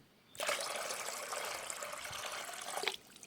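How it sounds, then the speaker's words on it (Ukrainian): Water pours steadily into a bucket being filled for a chicken waterer fitted with three drinker cups, a continuous close splashing rush lasting almost three seconds before stopping abruptly. "Далі у відро наливаю воду і все."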